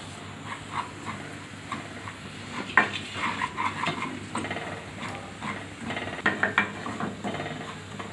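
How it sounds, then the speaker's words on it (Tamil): Semolina (rava) being dry roasted in a hot pan for kesari, with a spoon scraping and clinking against the metal in irregular bursts that are close but fairly quiet. "அடியில் பிடிக்காமல் இப்படி ட்ரை ரோஸ்ட் பண்ணிகிட்டே இருங்க"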